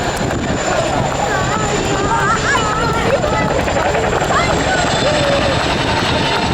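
A Royal Air Force Chinook helicopter flies a display at the 2016 RAF Cosford Airshow, its dense steady rotor roar filling the whole stretch loudly and without a break, with a voice speaking faintly beneath it.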